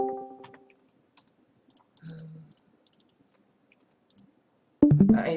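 Computer mouse double-clicking, with small sharp click pairs scattered quietly through near-silence, followed by a short burst of louder noise at the end.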